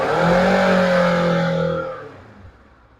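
Kawasaki ER6f motorcycle engine revved once up close, a loud rising parallel-twin roar held for about two seconds before dropping back to a quiet idle rumble.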